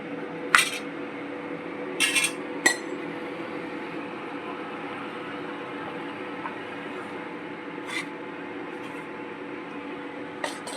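Spoon stirring onion sabji with chickpea flour in a pan, a few sharp metallic clinks and scrapes spaced apart over a steady background hum, close and moderately loud with no talking.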